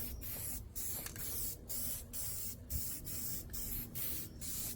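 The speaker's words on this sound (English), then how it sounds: "Always make sure that you're spraying in multiple angles as well" A spray paint can hisses out camouflage coats onto a rifle in a series of short, close bursts separated by brief pauses, with no talking.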